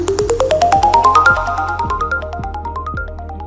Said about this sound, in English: When an order comes in, you will hear a notification sound.